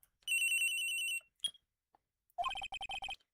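A cell phone rings in the Phoenix Wright: Trials & Tribulations video game, giving a sustained electronic tone, a brief blip, then a faster burst of stuttering ring pulses, all in near silence.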